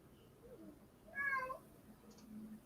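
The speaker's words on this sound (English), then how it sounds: "Oh yes, that was a cat." A cat gives one short, faint meow indoors against quiet background noise.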